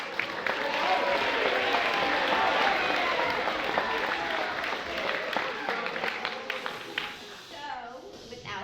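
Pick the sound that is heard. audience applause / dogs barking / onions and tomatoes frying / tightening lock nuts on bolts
audience applause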